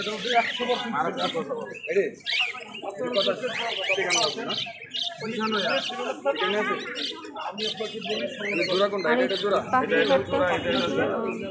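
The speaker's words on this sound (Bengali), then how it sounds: "আর যেখানে বিভিন্ন ভ্যারাইটিসের পাখি আছে, লাভবার্ড, বাজরিগার, ময়না, তোতা পাখি" Pet birds such as lovebirds, budgerigars, mynas, parrots and cockatoos chirp and tweet at the Meradia bird market, a busy mix of calls heard beneath a person talking nearly throughout.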